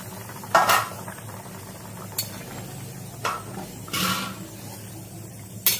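A lid comes off a cooking pot of simmering meat, potato and papaya, giving a few sharp metallic clanks and a scraping rattle spread over several seconds, close and fairly loud, with no speech.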